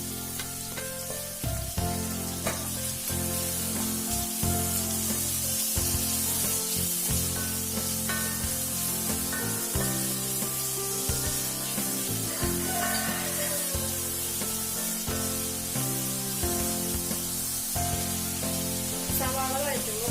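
Four small chopped onions sizzle and fry in hot coconut oil, a dense, steady crackle that carries on throughout, with occasional stirring and faint background music.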